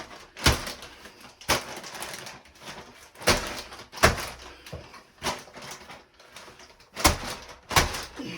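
A texture hand pump sprayer smacks repeatedly against a ceiling to apply hand brocade texture, giving sharp, loud thuds at uneven intervals of roughly a second, with quieter scraping and splatter between hits.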